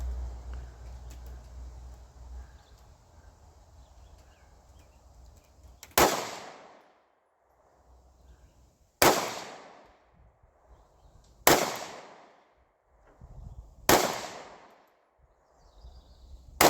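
Four sharp gunshots ring out at a shooting range, spaced a few seconds apart, each loud crack followed by a decaying echo, with quiet handling noise in between.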